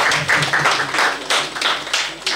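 Audience applause at the first Nuit de l'Accessoiriste ceremony in Cotonou: a short burst of clapping from a nearby crowd, uneven and lively, with faint voices mixed underneath.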